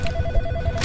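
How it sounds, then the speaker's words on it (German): An old telephone rings in the horror video game In Sound Mind, a steady trilling bell tone over a low, murky game ambience, with no talking. "Telefon!"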